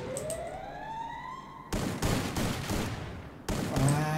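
Gunfire in a Free Fire battle-royale match during a pro-league scrim, with loud bursts of rapid shots breaking in abruptly after a quieter stretch and repeating near the end.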